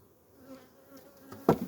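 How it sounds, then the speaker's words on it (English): Honey bees, a mix of Carniolan workers with a Saskatraz queen, humming softly inside a hive opened for feeding during a nectar dearth, with a sharp brief knock or buzz near the end. "This hive is a mixture of carniolan bees with a Saskatraz queen."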